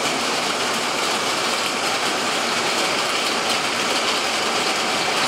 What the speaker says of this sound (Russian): Чистое небо и дождь идет.